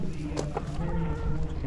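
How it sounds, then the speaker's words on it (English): Chickens cluck in a farmyard setting among other animals, a few short clucks rising over steady low background noise and a faint hum, fairly close but not loud. "And there's chickens."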